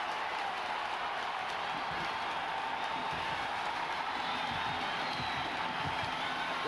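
A large stadium crowd at a 1993 Notre Dame versus Boston College college football game sends up a broad, steady roar of cheering, loud and sustained throughout, with no voices distinct from the mass.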